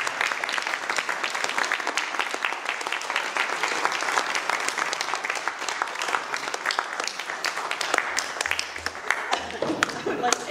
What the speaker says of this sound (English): I think we need to give him a big round of applause.